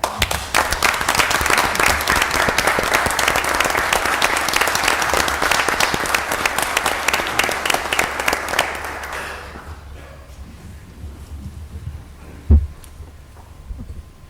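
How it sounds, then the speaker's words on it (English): People at a Mobile city council meeting give a loud, sustained round of applause that fades out after about nine seconds, followed by quiet room noise and a single thump. "But I hope y'all will all join me in giving George a big round of applause."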